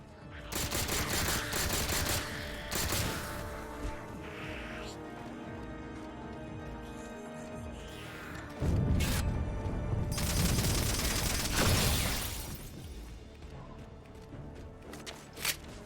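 Gunfire from a Magnum pistol in the Halo 4 video game comes in dense, rapid volleys mixed with other battle noise and booms, loud and continuous, under a speaking voice.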